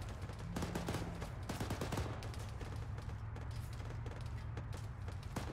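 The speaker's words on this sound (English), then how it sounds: "We're taking fire from multiple angles." Distant, faint gunfire in a military video game compound fight, with repeated sharp cracks and bursts arriving from several directions over a steady background rumble.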